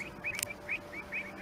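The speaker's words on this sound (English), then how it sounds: "you can hear the Avocets" Avocets give several short, high, clear calls in quick succession at a distance, heard faintly over a quiet background in Essex.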